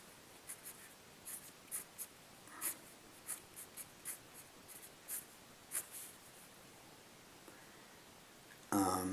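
Marker or chalk writing on a board while working a calculus integral: a series of short, distinct scratchy strokes in an uneven rhythm, fairly close, with a louder clatter at the very end.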